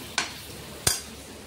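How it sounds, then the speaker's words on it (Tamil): Two distinct, close clanks of a spatula striking a pan ring out about half a second apart while onion and tomato sauté, each fading quickly into a faint background sizzle. "இப்போ தக்காளி சேர்க்கலாம். இப்போ இதுவும் நல்லா வதங்கட்டும்"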